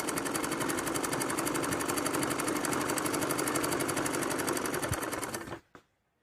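A sewing machine runs fast and loud in one continuous burst while stitching palazzo trouser fabric, then stops abruptly near the end, with no talking.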